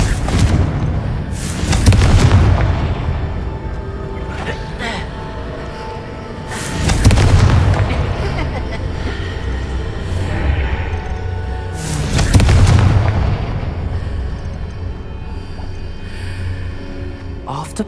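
Three loud, booming explosions from the Confringo fire spell in the video game Hogwarts Legacy, spaced about five seconds apart, each a heavy thump with a rumbling tail over quieter game ambience.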